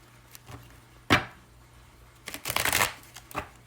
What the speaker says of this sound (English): I'm going to shuffle these cards 5 times